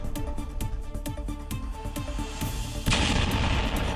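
A rapid series of sharp booms and bangs, then a loud burst of roaring noise as a missile strikes a drone and the explosion erupts and sustains, heavy and close.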